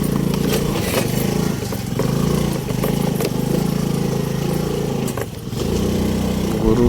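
A motorcycle labouring up a rough off-road hill track, its engine droning steadily and loudly at mid pitch with a brief dip near the end, close to the listener.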